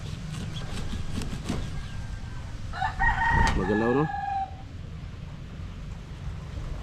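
A rooster crows once loudly and nearby in a backyard with chickens, a long rising and falling call in the middle, while a person speaks briefly beforehand over low farmyard noise.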